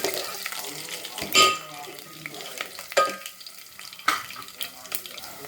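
Crushed garlic fries in a pan for puliyogare gojju, with a soft sizzle under scraping stir strokes and a few louder clanks of the utensil against the pan, close by and without talk.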